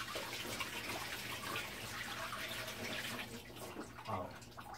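Tap water runs steadily over a pomegranate being washed, a continuous hiss and splash under a sink faucet, fairly quiet and uninterrupted.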